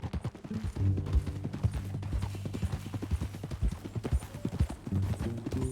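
Steady clip-clop of a horse's hooves during riding in Red Dead Redemption 2, a rapid rhythmic trot carried under a low rumbling ambient bed, close and continuous with no voices.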